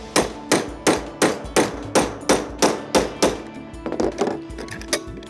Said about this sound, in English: take this cutter apart using this handy pin punch and a little ball peen hammer